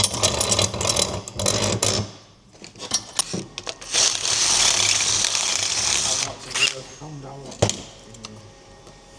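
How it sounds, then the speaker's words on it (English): A drill bores a hole through a metal rod during a Hayabusa-powered K11 Micra build, with loud, grinding bursts that start and stop irregularly, some brief clanks, and occasional talk between them. "Now I need to drill an hole through that allows that to go through there"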